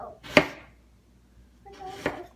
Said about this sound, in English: Those are strawberries that I am chopping up to put in my muffin.